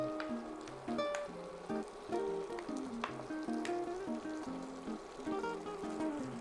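Tomatoes simmer quietly in a pan with a soft, steady sizzle and scattered small pops and bubbles, close but faint, with no talking.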